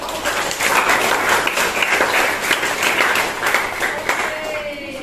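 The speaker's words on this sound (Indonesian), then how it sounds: "Kita berikan tepuk tangan." A classroom of students applauds together for a classmate, dense steady clapping that holds at full strength throughout, with no talking over it.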